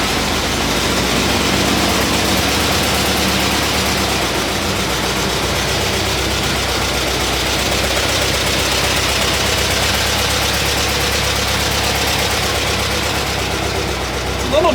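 A vehicle engine idles steadily and close after its air-fuel mixture and sticking choke were adjusted, a continuous low rumble with a faint knock running alone throughout.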